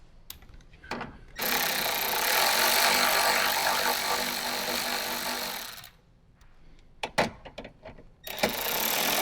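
A power driver whirs steadily for about four seconds while backing out 10mm bolts beside a Toyota 4Runner speaker tweeter, then stops, followed by sharp clicks and handling knocks, with no talking.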